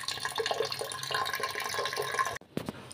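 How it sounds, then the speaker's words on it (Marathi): Water pours into a pot of chana dal for a Maharashtrian puran sweet, a close, continuous gushing splash that cuts off abruptly near the end, followed by a couple of brief knocks and trickles. "थोडं जास्त घेते म्हणजे डाळ चांगली शिजली पाहिजे म्हणून"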